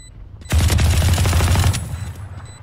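Rapid gunfire in the video game Valorant: a loud, close burst of automatic shots rattles for just over a second and then cuts off, leaving faint background noise.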